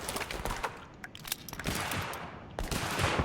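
Scattered gunfire from a video game crackles in irregular bursts at moderate distance, fairly faint against a busy background.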